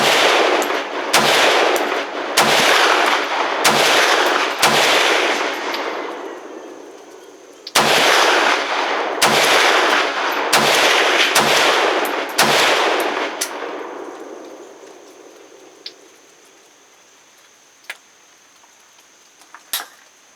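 A Palmetto State Armory KS47 rifle fired offhand at jugs 55 yards away: a loud, rapid string of sharp gunshots in two bursts. Each crack echoes outdoors, then it falls quiet with a few faint distant pops.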